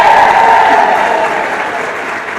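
Loud, dense applause and cheering from a school crowd rallying for the Lady Cards girls' team, a continuous wash of clapping that tapers slightly toward the end, with voices mixed in.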